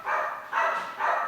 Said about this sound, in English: I'm so sorry about the dog, guys.